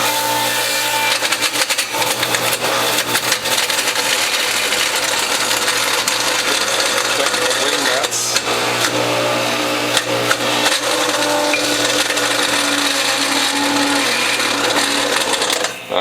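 A Whole Health Foundation juicer presses second-growth wheatgrass fed with a tapered wooden pusher. Its motor makes a loud, steady grinding whir with faint crunching that runs without a break.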